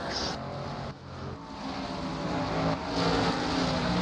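MG Cup race cars streaming across the start-finish line at Willow Springs, a continuous rushing engine roar that swells and fades as the field passes, with no one talking over it.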